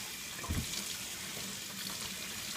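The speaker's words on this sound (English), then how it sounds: "while I rinse my hand off" Kitchen faucet running while hands are rinsed, a soft steady hiss of water with a brief splash near the start, faint and close.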